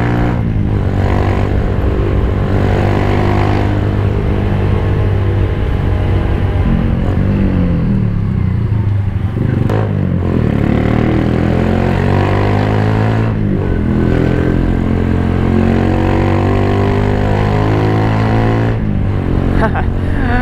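Keeway CR152 Scrambler motorcycle engine while riding on a quiet road, a loud, close, continuous rumble with repeated revving rises and falls, with a rider's voice speaking over it at times.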